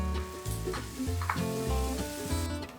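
Green pepper and tomato frying over high heat for Turkish menemen, a dense crackling sizzle with spatula stirring and scraping, close and fairly quiet.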